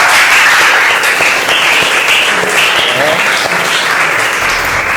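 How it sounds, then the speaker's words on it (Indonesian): A room full of people claps loudly and continuously at a school discussion session, dense steady applause from start to finish. "Tepuk tangan buat semuanya."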